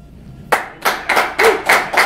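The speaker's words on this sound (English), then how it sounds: "I ask for applause." Audience at a tech conference talk claps. About six sharp, distinct claps land at a steady rhythm after a brief quiet start, close and moderately loud, with no voices over them.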